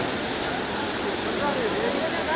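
Floodwater of the Kosi river in Bihar rushes past after a dam breach, a continuous loud broadband roar like a waterfall, with faint voices mixed in.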